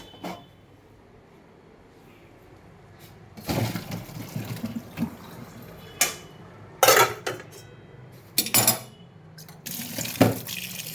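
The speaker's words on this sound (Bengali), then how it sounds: "ঠান্ডা জল দিয়ে দিচ্ছি যাতে সিদ্ধটা বেশি না হয়ে যায়" Boiled taro stolons are drained and rinsed under cold water: bursts of running tap water splash into a sink in several separate runs, with clinks of a pot between them.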